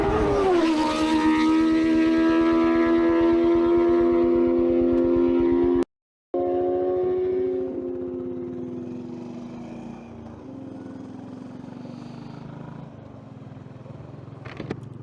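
Motorcycles speeding past on a highway, a loud engine roar up close that drops in pitch as the bikes pass, heard through a rider's helmet-mounted recording amid steady road and wind noise.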